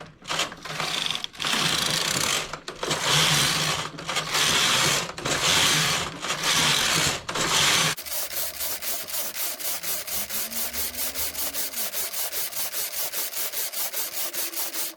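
Home knitting machine knitting rows of a braided scarf, harsh rhythmic rasping sweeps of the carriage across the needle bed, followed by a quicker steady clatter of repeated mechanical ticks, close and continuous.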